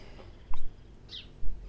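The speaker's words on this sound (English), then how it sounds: "Not sure what's up with the seagulls this morning." Seagulls call at a misty harbour on the Northumberland coast, with two brief cries standing out over quiet, breezy ambience.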